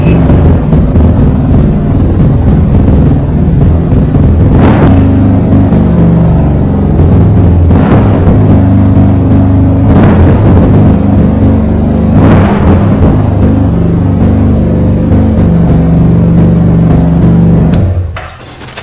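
A Yamaha TMAX 530cc inline two-cylinder scooter with an aftermarket Akrapovic exhaust revs with a deep, bassy note: a loud, steady rumble with periodic throttle blips, close by, before cutting off abruptly near the end.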